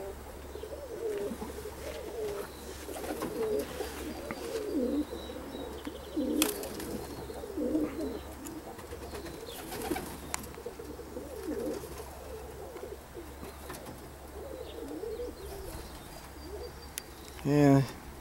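Old Classic Frills Satinette fancy pigeons coo softly and repeatedly in an outdoor loft, with a low steady hum underneath and scattered faint bird chirps.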